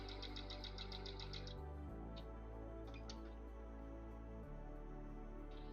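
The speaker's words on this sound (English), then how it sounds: "I'm gonna sew right over my pins." Sewing machine stitching straight over pins, a quiet rapid mechanical chatter with a steady low hum, running throughout with brief pauses and no voices.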